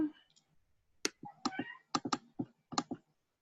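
Someone is typing on a computer keyboard set to a Hebrew layout. Quiet, irregular clicks come in short bursts of keystrokes, close by, with no other sound.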